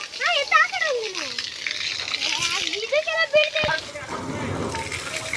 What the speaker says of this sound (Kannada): ನಮ್ಮ ಮಾಮ ನೀರು ಹಾಕ್ತಿದ್ದಾರೆ